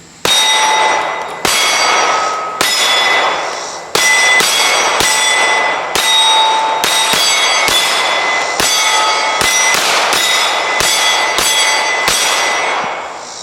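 A Springfield Armory Echelon 9mm pistol fires at steel plates on an outdoor range. About a dozen sharp, loud shots come in uneven bursts, each followed by a ringing metallic clang from the struck steel.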